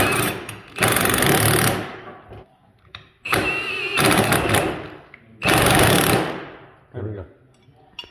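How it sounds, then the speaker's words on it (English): A power tool tightens axle bolts on traction bars during a suspension drop install, running in three loud, sustained bursts of about a second or more each, separated by short quiet gaps and softer clanks. "you need to tighten these bolts up so that they'll go in that guide"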